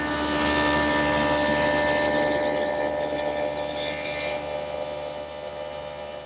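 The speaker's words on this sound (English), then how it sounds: "I want to make a big rabbet on the outside of all these lines." A dado blade on a table saw cuts a wide rabbet into 3/4-inch oak plywood, making a loud, steady, broadband whirring roar that eases off slightly as the cut ends.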